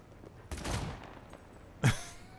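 Two sharp gunfire bursts ring out in Cyberpunk 2077, the first a short rattling volley and the second a single crisp crack, both fairly close against a low ambient background.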